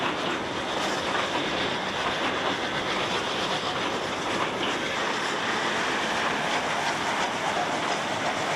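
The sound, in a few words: steam locomotive train on the Lima–Huancayo railway, Peru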